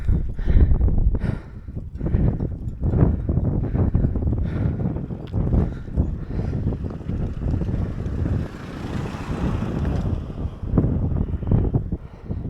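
Steady gusting wind buffets the microphone in loud, continuous rumbling bursts while cycling uphill on the Greek island of Kalymnos, with no voices present.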